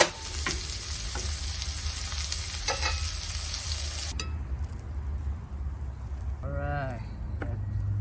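Steak and shallots sizzle steadily in a frying pan with a constant hiss and a few clinks. Partway through, the loud sizzle drops to a quieter background and a brief voice is heard.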